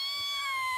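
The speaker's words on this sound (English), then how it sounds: "Make the thing meow." A toy makes a cat meow, a single short electronic mew with a slightly falling pitch, clear and close.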